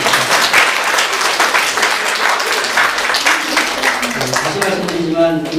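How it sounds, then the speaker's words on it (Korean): A church congregation applauding during a Sunday worship service: dense, steady clapping from a full room that fills the whole stretch, with a faint sustained musical tone emerging near the end. "자 이제 다 같이 몰아서 우리 박수로 좀 정리했습니다"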